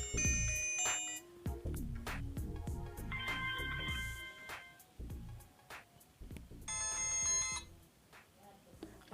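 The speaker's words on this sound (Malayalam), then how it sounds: "സൗണ്ടിൽ നമ്മൾ നേരത്തെ നോക്കിയത് റിംഗ് ടോണ്." A W26 Plus smartwatch plays its ringtone through its small built-in speaker, a bright electronic melody of short repeating notes with sustained high chimes at the start and again near the end, moderately loud and close.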